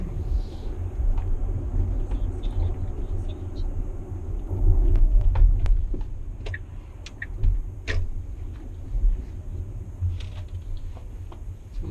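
A car rumbles steadily at close range, its low road and engine drone swelling and easing slightly, with faint scattered ticks over the top and no talking.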